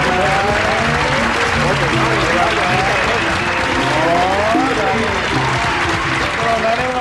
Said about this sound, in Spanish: Fuerte el aplauso para Nani Peña